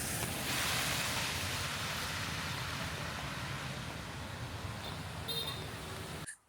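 Rain grows heavier outside a night market in Dalat, Vietnam: a dense, steady hiss fills the air without a break, then cuts off abruptly at the end.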